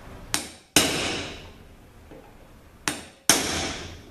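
Two pairs of sharp, loud metallic strikes ring out as a bolt is broken loose with a T40 Torx socket during a ZF5HP24 transmission teardown, each strike ringing off briefly in a quiet workshop.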